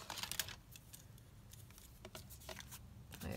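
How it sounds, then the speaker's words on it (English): Decorative edge scissors snip through paper at a craft table in a quiet room, a few faint, crisp cuts in short bursts with pauses between. "I'm just going to cut it down"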